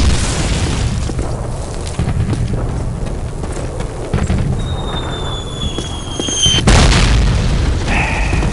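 A grenade bursts in Call of Duty with a heavy boom amid the battlefield din of rumbling and scattered shots, then a second loud blast near the end, followed by ringing tones.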